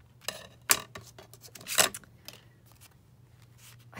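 Scissors snip through coffee-dyed paper at a craft desk in a few quick, close cuts with faint paper rustling between them, and there is no talk.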